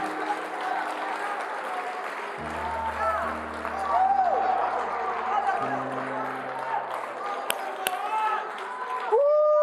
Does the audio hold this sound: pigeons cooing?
no